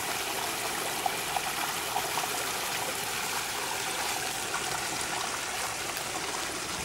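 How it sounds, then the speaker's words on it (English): Steady rushing and splashing of a small waterfall, soft and a bit distant, continuous with no pauses and no voices. "Here I could hear this little waterfall a little ways off."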